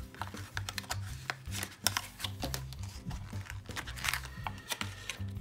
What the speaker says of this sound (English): Might just have to tear this open.